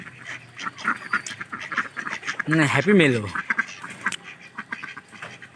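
Domestic ducks quack in a loud, close burst midway, amid someone speaking before and after.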